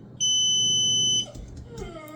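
A kitchen-style timer gives one sustained, piercing electronic beep lasting about a second, loud and close, then cuts off into quiet room noise.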